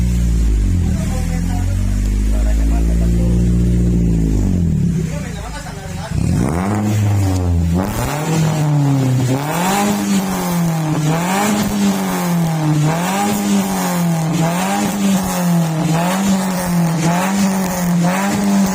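A Toyota Calya exhaust fitted with a resonator roars loudly as the engine is revved repeatedly, its pitch rising and falling in a wavering, rhythmic cycle.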